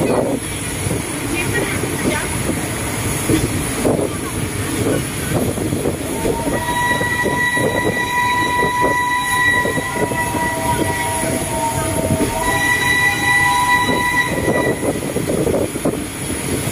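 A special steam-locomotive excursion train on the Bangkok to Ayutthaya line runs on rails near Don Mueang, a steady continuous rumble with whistle-like tones sounding midway, while someone talks over it.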